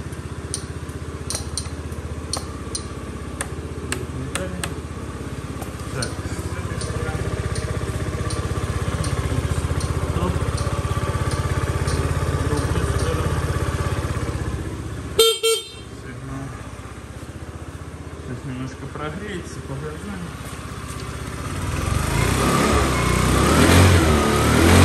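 Fuel-injected Honda Dio AF scooter engine idling steadily up close, a continuous buzzing drone with a brief dropout midway and a louder rev toward the end, no talking.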